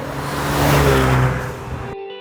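Ford Bronco 2.3L fitted with an XForce 3-inch cat-back exhaust, a loud engine rev that swells and then cuts off sharply into silence near the end.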